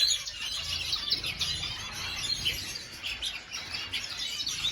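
Canaries and tropical finches in an aviary chirp and tweet continuously, many birds overlapping in busy, close, high-pitched calls with faint wing flutters.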